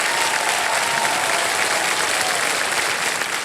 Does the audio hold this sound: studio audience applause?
yes